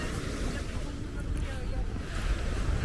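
Sea waves wash steadily onto Kleopatra Beach in Alanya, Turkey, a continuous broad surf roar with gusts of wind buffeting the microphone and no distinct breaks.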